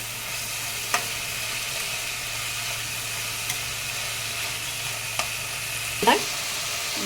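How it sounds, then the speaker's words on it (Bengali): Potato and pointed gourd peels fry in a pan with a little sugar, giving a steady sizzle broken by a few sharp clacks of stirring and a louder scrape near the end. "এবার অল্প নাড়াচাড়া করে নিচ্ছি কিছুক্ষণ এটিকে ভাজতে দেবো"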